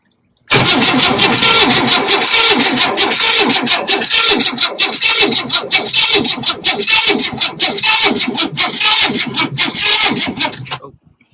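A 1968 Chevy Bel Air V8 cranks and catches after a fuel pump repair, then runs loud and close with a steady rough idle and uneven revving for about ten seconds before cutting off.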